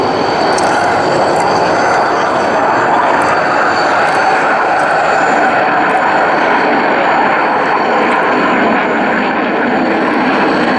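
A Transall military transport aircraft at the ILA air show runs its engines in a loud, steady broadband drone that holds for about eleven seconds, with no talk over it.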